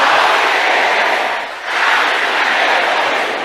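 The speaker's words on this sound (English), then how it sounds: "Can I hear everybody shouting this loud and clear?" A congregation at a prayer meeting shouts a prayer loudly in unison, a dense, continuous roar of many voices that dips briefly midway before swelling back to full volume.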